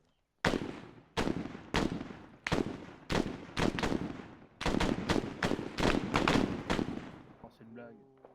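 Gunfire in the Arma 3 military simulation game: about fifteen loud, evenly spaced shots in steady succession, close and sharp, followed by a short tail of fainter clicks and gear sounds at the end.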